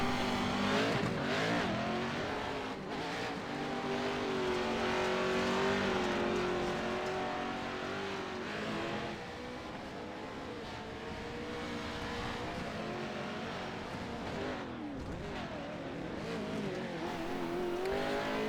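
A racing truck's engine in an online sim race, throttle feathered through a corner, revving up and down in repeated surges with some tire scrub, loud and continuous with no talking.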